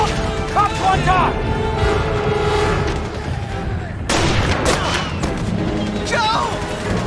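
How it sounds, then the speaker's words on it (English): Gunfire and sniper shots ring out in the war video game 11-11 Memories Retold, sharp cracks among battle noise, with shouting voices over the action. "Sniper! We need to move, Harry!"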